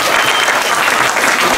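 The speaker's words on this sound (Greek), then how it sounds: "ένα μεγάλο χειροκρότημα παρακαλώ." Enthusiastic audience applause at a school theatre performance in Katerini, a dense, loud, steady wash of many hands clapping with no break.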